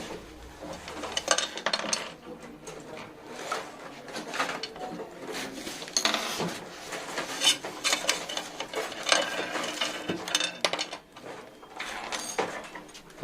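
Packaging of a Mechanic MC75 microscope being opened, with scattered rustling, rubbing and scraping of cardboard and foam in irregular bursts, close and fairly quiet, with no talking.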